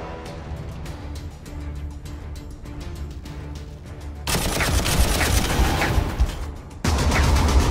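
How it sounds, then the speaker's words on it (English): Rapid gunfire exchanged across bridges in a Warhammer 40,000 strategy game, dense crackling volleys over a low rumble, growing louder and busier midway through and continuing without pause. "Fire being exchanged across the bridges,"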